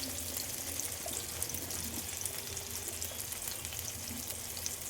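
Fish, surmai, frying on a tawa griddle over medium heat gives a steady, even sizzle that runs without a break, fairly soft and close.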